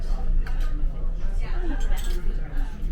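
Tea ice cubes knock and clink faintly in a glass at a brunch table, with steady conversation going on over the sparse tinkling.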